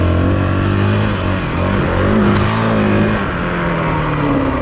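A motorcycle being ridden for practice on riding form with modified parts, its engine revving loud and close in steady, shifting tones that rise and fall over several seconds, with no voices.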